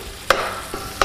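Very lean chopped meat frying over turned-up heat in a cast iron pan, a steady close sizzle with a few sharp scraping stirs, no talk.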